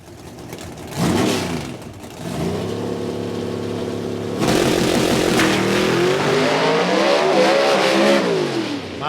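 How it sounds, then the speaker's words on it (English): A Pro Stock drag race car revs loudly at the start line and launches in IHRA qualifying at Darana Motorsports Park, Dunn, its close, rising engine roar building and shifting in pitch. "Miles Reese stepping up first to go here in qualifying"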